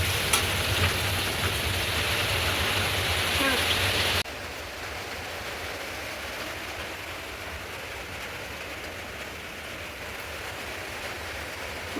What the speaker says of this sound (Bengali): এখনও বৃষ্টি পড়ছে